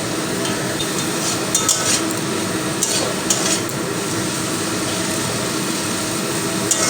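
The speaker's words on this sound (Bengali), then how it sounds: "তো আরও আমি দুই থেকে তিন মিনিট সময় নিয়ে ভাজা ভাজা করে নেব কারণ চিনিটা গলবে পেঁয়াজগুলো একটু ভাজা ভাজা হবে" Sliced onions frying with sugar in a pan for a radish greens dish, a constant dense sizzle with faint stirring scrapes and no voices.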